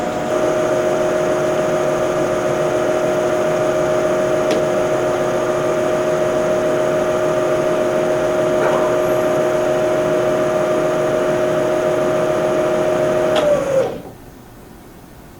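A milling machine spindle runs a reamer through a hole with cutting oil, giving a loud, steady mechanical whine with a constant tone. The whine holds evenly for about fourteen seconds, then winds down abruptly as the spindle stops, leaving a faint hum.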